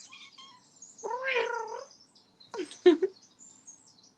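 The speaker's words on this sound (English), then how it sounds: "She made kitty sounds." A cat gives one drawn-out meow, then after a pause a quick pair of chirping, trilled calls, close and fairly quiet in an otherwise still room.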